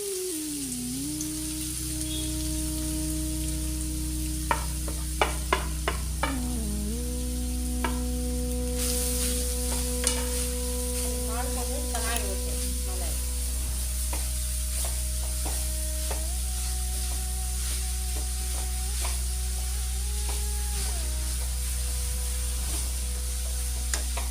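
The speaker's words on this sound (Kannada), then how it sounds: "ಹಸಿ ಸ್ಮೆಲ್ ಹೋಗೋವರೆಗೂ ಫ್ರೈ ಮಾಡ್ಕೊಂಡಿದ್ದೀನಿ." Grated carrot fries in a pan with a low steady sizzle while a spoon scrapes and taps in clusters, over a constant hum and faint tonal background music.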